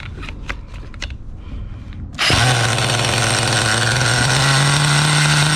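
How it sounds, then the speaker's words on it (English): A Schumacher Menace 21 nitro RC truck engine fires up after a few short clicks and settles into a loud, steady, buzzy idle close by. "Yeah, this motor responds. Big difference. The idle has settled down."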